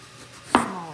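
A knife makes a single sharp chop through eggplant on a cutting board, one close, crisp knock in an otherwise quiet kitchen.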